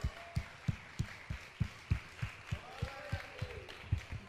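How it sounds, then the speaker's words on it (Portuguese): A congregation at a church service claps in a steady, even rhythm, a faint beat of hand claps repeating about three times a second against a soft background. "Vamos dar uma salva de palmas?"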